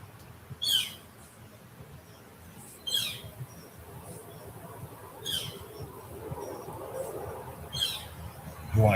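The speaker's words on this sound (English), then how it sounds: "no, that is a real bird that's outside." A real bird calls outside, about five short, sharp chirps spaced a second or two apart, faint and distant over a low indoor hum.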